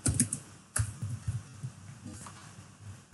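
Computer keyboard keys clicking in short irregular bursts while a layer name is typed in Photoshop, close and fairly faint with quiet gaps between the clusters of keystrokes.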